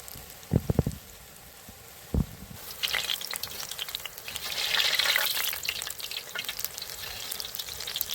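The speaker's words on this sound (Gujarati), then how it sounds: "બરાબર તેલ ગરમ થઈ જાય એટલે નાના નાના સાઇઝમાં ભજીયા પાડી દો" Kumbhaniya bhajiya fritters dropped into hot oil in a kadai over a chulha, with a couple of sharp clatters at first and then a steady, loud sizzle and crackle that builds and holds.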